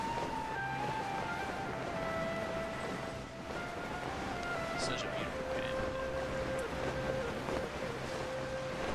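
A waterfall in Fontaine in the video game Genshin Impact gives a constant broad rushing roar, with faint tonal music drifting over it while a person talks.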